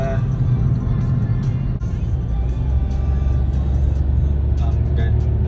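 A car driving on roads in Jeju, Korea, heard from inside as a loud, steady road and engine rumble with tire noise that carries on unbroken throughout.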